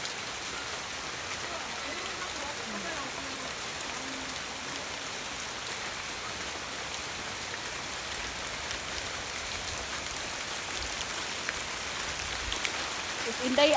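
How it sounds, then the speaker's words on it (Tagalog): Heavy rain falls steadily throughout in a dense, loud, even hiss, with no pauses and a slight rise at the very end. "Sobrang lakas man ang ulan, eh."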